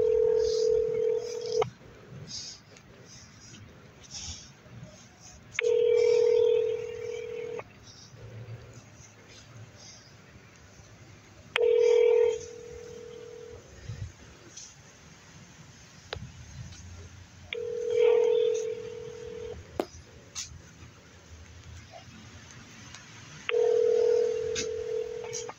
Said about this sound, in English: the phone is just ringing